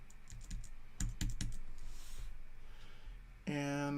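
Tab keys are pressed on a computer keyboard, giving a few sharp, close clicks, some in quick succession, followed by a sudden steady tonal hum at the end.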